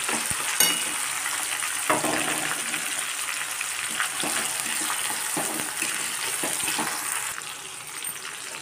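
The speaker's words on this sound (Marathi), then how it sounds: "टोमॅटो छान फ्राय झाले." Chopped tomatoes fry in a pan with browned onion, a constant bright sizzle broken by a few sharp clinks and stirring scrapes.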